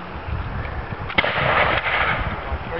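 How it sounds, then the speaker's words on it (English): A single cannon shot at a multi-period historical reenactment at Prestongrange: one sharp, loud boom a little past the middle, standing out from steady outdoor background noise. "Fire that shot and then we'll start to turn the gun on them."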